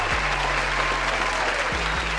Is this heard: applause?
yes